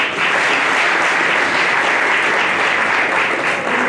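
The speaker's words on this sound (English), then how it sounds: "give a round of applause" A crowd at a ConnectEO and CONTRALESA event applauds the Deputy Minister for labour and employment, a loud, even wash of clapping that holds steady from start to finish.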